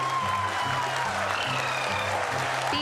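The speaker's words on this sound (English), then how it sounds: "People are applauding." Continuous applause from a crowd at an ISRO lunar landing broadcast, dense and steady clapping over a low background hum throughout.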